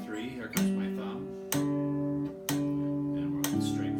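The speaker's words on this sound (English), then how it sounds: "strum the strings twice with our thumb" A thumb strums strings four times at even intervals, and each stroke rings out and sustains with a clear pitched tone until the next one.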